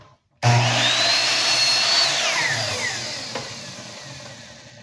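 A miter saw slices through a wood piece, cutting it in half: a loud, close whine surges in abruptly, holds with a falling pitch as the blade bites, then slowly winds down, with no talking.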